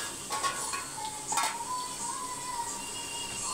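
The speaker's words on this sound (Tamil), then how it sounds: "பட்டர் வந்து நல்லா உருகட்டும்" Butter melting and sizzling in a pan for a birthday-special dish, a steady soft hiss with a few light clinks and scrapes of stirring against the pan, fairly quiet and without talk.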